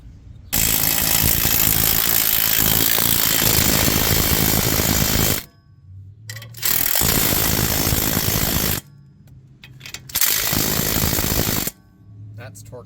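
Impact wrench or power tool tightening bolts during a lower spring install on a 2019 Chevy Cruze, three loud sustained bursts of buzzing whir separated by short pauses, close up with no talk.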